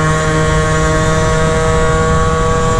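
A 72cc Honda Elite DIO scooter engine drones at a steady high pitch throughout, loud and close, holding a constant rev without pause.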